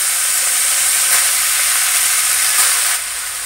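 Chopped fenugreek leaves hit hot mustard oil with a loud, steady sizzle, a broad crackling hiss running throughout with brief surges and a slight drop near the end; no voices.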